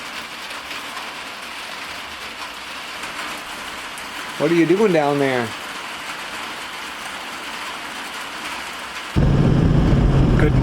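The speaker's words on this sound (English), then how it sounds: "Come out here now when it's raining." Steady rain falls outside a farmhouse as a continuous close hiss, briefly under a voice asking a question, then growing heavier and louder toward the end.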